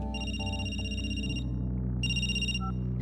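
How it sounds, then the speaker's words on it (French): A telephone rings with electronic, bell-like tones over a steady low background hum, two ring bursts about a second and a half apart, moderately loud and with no voices. "Le 10 mai, Cathy accepte de lui parler quelques minutes au téléphone."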